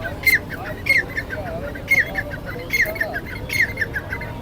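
Birds squawk at a pigeon market, sharp repeated calls at roughly one-second intervals over a low murmur of crowd noise.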